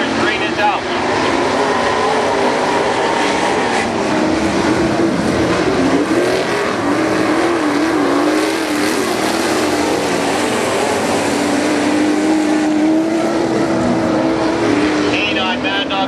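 Super stock race cars compete in a five-car, 15-lap main event at Barona Speedway. Engine roar is loud and continuous, with rising and falling revs as the cars pass. An announcer talks over the noise throughout.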